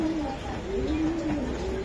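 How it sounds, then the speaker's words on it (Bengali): A male racer pigeon coos in steady rolling phrases, close and clear, with low room noise underneath and no talk. "এটা নর কবুতর"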